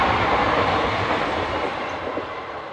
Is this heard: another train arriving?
yes